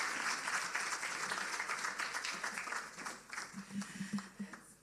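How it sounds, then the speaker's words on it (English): Audience applause at a public sector service excellence awards ceremony, a broad wash of many hands clapping from a sizeable crowd, steady at first and then thinning and fading toward the end. "You did a little bit better with the applause"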